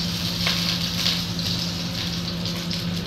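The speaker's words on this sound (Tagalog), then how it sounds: "igigisa natin ang ating sibuyas, bawang, at luya at kamatis" Onion, garlic, ginger and tomato sauté in hot oil, giving a steady, close, loud sizzle with a low hum underneath and no talking.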